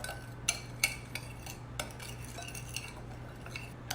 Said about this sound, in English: I'm just gonna do a little bit of chocolate powder and sugar. Give it a mix.